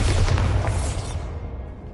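A Bombarda spell blasts in a video game, a single heavy, close explosion whose deep rumbling body stays loud briefly, then tails away into a softer rolling decay.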